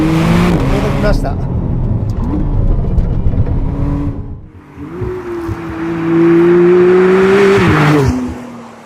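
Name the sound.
McLaren Artura 2025 engine revving while driving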